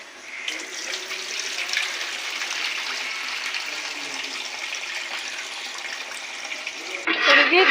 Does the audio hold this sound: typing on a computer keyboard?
no